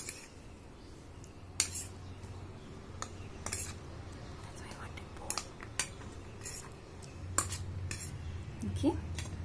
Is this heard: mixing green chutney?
yes